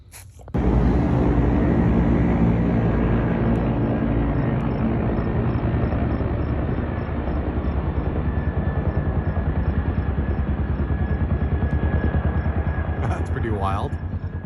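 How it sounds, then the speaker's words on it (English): A helicopter flies low over a house, its dense rotor chop and engine roar loud and steady for the whole stretch, rising sharply at the start and holding, with a brief voice near the end. "Helicopter buzzed my house"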